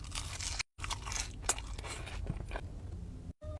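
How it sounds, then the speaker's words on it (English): Crisp, crackly bites and chewing of crunchy fries, close to the mic and fairly faint, with brief silent gaps between bursts. "His fries are always so crunchy."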